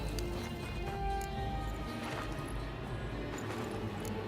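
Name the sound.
horse galloping in video game The Witcher 3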